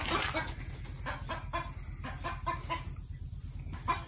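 Several chickens cluck in a farm coop, soft repeated clucks coming in a loose rhythm under a steady background hum, close and fairly quiet.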